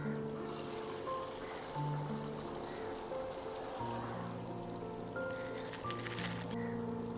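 Boiled seeraga samba rice for mutton biryani drains through a strainer, giving a steady rushing, splashing pour of water that runs for several seconds without a break, heard alone with no talk.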